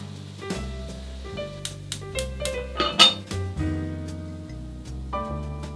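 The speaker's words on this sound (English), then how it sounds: "I'm cooking this for 30 to 40 minutes. I chose 35 to be safe, and stirring it frequently until the onions have turned an even" A spoon stirs onions browning in a pot, making repeated metallic clinks and scrapes against the pot, close and fairly loud, over a steady backing of music.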